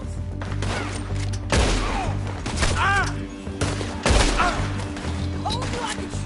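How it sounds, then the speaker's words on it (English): Gunfire in the Western video game Red Dead Redemption 2, a string of loud shots and cracks over a steady music and ambience bed, with pitched effects and overlapping game sounds throughout. "Told you I could shoot a gun"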